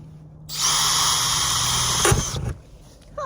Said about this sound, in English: I just drilled a hole in the roof